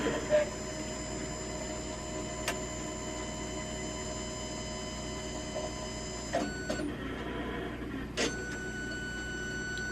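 A Melco embroidery machine runs steadily at close range, with a constant mechanical whine and tonal hum broken by a few sharp clicks and clunks.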